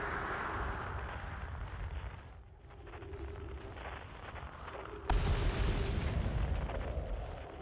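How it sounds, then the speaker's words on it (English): Explosions in a video game rumble as muffled booms over a continuous ambient bed, with one sharp loud blast near the end followed by lingering rumble; no voices. "Things randomly exploding?"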